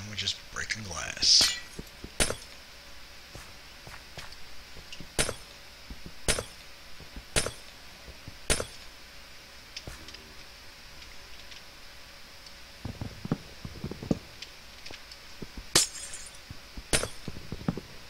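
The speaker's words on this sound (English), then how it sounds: "Now here's the favorite part. Broken glass." Glass blocks breaking in the Minecraft video game: a series of sharp, crisp shattering clinks repeats at irregular intervals, about a dozen breaks, fairly close and clear over a quiet background.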